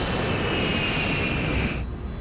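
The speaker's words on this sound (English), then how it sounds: "As the plane accelerates down the runway, airspeed increases" Airliner engines roar at full takeoff power as the plane accelerates down the runway, a loud, steady broadband rush with a high whine that cuts off sharply near the end.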